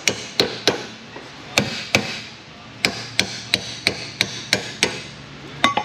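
A hammer taps a suspension bushing into place during subframe work on a car, giving a series of about fifteen sharp, close metallic knocks in uneven bursts, with no talking.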